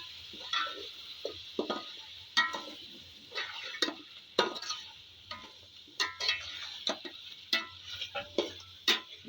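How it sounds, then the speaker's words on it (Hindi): A spoon scraping and tapping through a dry mix of cumin, biryani masala, black pepper and cloves for Hyderabadi beef biryani, producing irregular close scrapes and clicks over a faint sizzle, with no talking. "ज़ीरा, बिरयानी मसाला, काली मिर्च और लौंग, अच्छे से मिक्स कर लेंगे"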